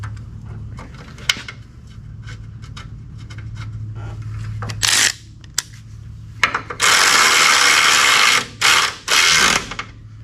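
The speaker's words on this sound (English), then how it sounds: "Bolt the bracket back on." A hand ratchet bolts a suspension bracket back onto a G-body car. Quiet mechanical clicks and handling noises come first, then several louder bursts of ratcheting, the longest in the second half.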